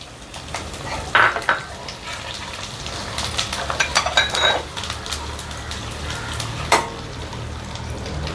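Asafoetida dropped into hot oil with mustard seeds for a spicy South Indian garlic pickle gives a continuous sizzle. Sharp spoon-on-pan clinks and stirring scrapes come through close and loud, with a few bright metallic taps.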